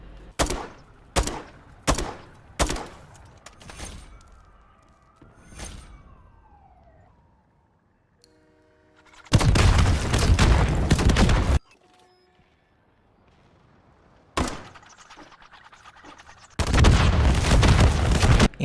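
Modern Warfare III multiplayer on the Rio map: a run of sharp single shots, then two long bursts of heavy launcher fire and explosions, with a siren wailing between them and gaps of near silence.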